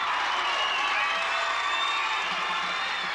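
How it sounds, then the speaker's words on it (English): Kids in a Pennsylvania hometown crowd cheering and clapping for local heroes, a steady, dense wash of applause and shouts throughout. "The kids cheering for the hometown heroes"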